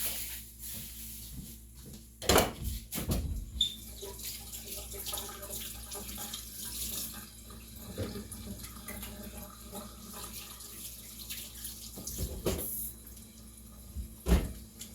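Tap water runs into a kitchen sink while hands are washed with dish soap, a faint, steady rushing stream broken by a few brief louder splashes and clunks, with no talking.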